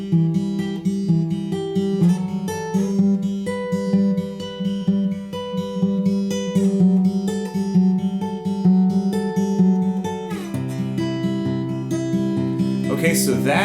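Acoustic guitar finger picking a repeating arpeggio pattern for a worship song, clear individual notes in a steady flowing rhythm, close and moderately loud, shifting chords partway through.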